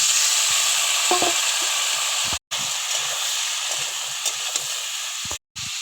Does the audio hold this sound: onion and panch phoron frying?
yes